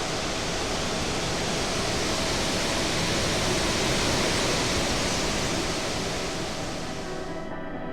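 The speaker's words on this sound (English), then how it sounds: "the pristine and stunning Kumarau waterfall" Kumarau waterfall in the Guyana rainforest, a 640-foot sheer drop about 200 feet wide, heard as a loud, constant broadband roar of falling water that continues unbroken and eases slightly at the end.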